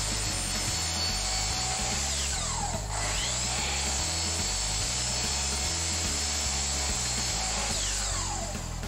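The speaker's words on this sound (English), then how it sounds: "Make your first cut into the zero clearance table insert," A miter saw cutting through a new fence and zero clearance table insert, a loud, steady motor whine with the blade grinding continuously through the wood for the whole stretch, no talking.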